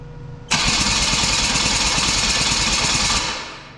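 A Chevy four-cylinder engine turns over and fires up on all four cylinders after a spark plug is reconnected, starting abruptly and running loud and close with a rough rhythmic chug before easing off.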